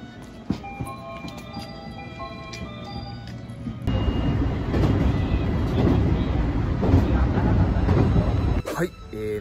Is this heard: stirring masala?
no